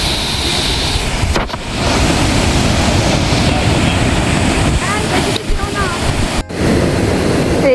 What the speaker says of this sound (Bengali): এই যে ঢেউ উঠছে দেখো।